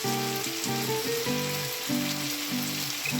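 Bitter gourd and pumpkin sizzle in a pan, a steady close frying crackle, while a clear harmonic tone with shifting pitch, probably a voice or music, runs over it.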